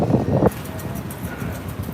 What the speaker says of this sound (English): now you have some wind